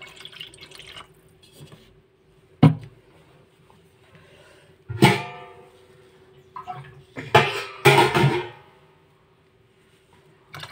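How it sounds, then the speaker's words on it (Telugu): Water poured into sour curd in a bowl for magiga pulusu, a few short splashing pours and drips between quiet pauses, close and intermittent. "ఇందులో కొంచెం వాటర్ పోసుకోవాలి."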